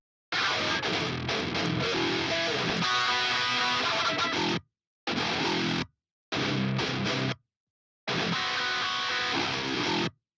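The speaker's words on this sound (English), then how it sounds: "And the guitars by themselves just sound like this." Distorted, high-gain 8-string guitar tuned to drop E through a modern metal amp preset, playing chugging riffs in bursts with hard noise-gated silences between phrases, loud and dry with no talking.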